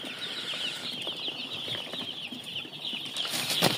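A crowd of broiler chicks at a poultry farm peeps in a constant high chatter, broken by quick bursts of wing flapping, loudest near the end.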